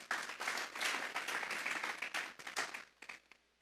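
Church congregation applauding during a sermon, a dense steady wash of many hands clapping that holds for about three seconds, then thins and fades out.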